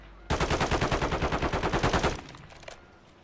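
Rapid automatic gunfire in Call of Duty Warzone, a loud close burst of about twenty evenly spaced shots lasting nearly two seconds, then a few faint distant pops.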